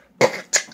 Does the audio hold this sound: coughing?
yes